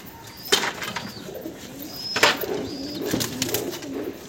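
Roller pigeons coo close by in soft, repeated throaty phrases, with a few sharp bursts like wing flaps or movement breaking in between.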